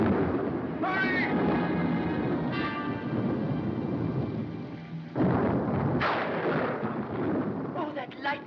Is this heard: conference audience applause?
no